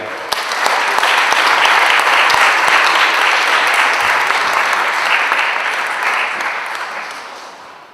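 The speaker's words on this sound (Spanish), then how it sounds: "Demos un fuerte aplauso al profesor Felipe Evia." A panel audience applauds a speaker at an event on standardized versus integral education, with steady loud clapping that swells, holds, then fades away over several seconds.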